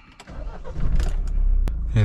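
A Mahindra Scorpio Classic SUV starts up: a short starter crank, then the engine catches and settles into a steady, close idle that rumbles loudly to the end, with a brief thump near the finish.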